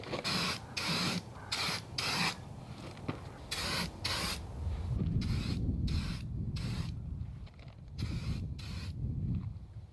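Aerosol spray paint hissing onto truck parts for a 1979 Chevy Bonanza Squarebody, outdoors at dusk, in a series of short sharp bursts and longer sustained sprays, with can rattling and handling noise between them.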